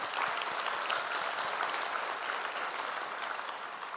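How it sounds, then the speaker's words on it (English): A conference audience at Code4Lib 2018 applauds lightning talk speakers, a steady wash of many hands clapping, moderately distant and fairly soft throughout. "big round of applause for them"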